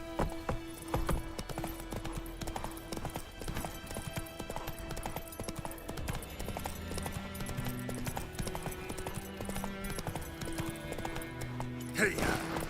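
Horse hooves clip-clop steadily in The Witcher 3 in first person, with an occasional whinny, under a busy game soundtrack and ambience; someone speaks briefly.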